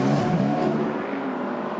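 Toyota endurance race cars take the finish of the 2015 6 Hours of Bahrain, a steady loud engine roar with whirring mechanical tone holding from start to end, no voices.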